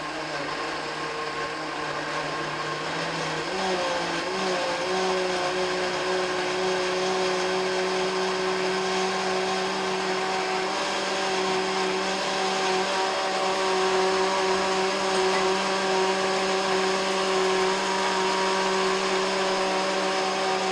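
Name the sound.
blender blending chiles for enchiladas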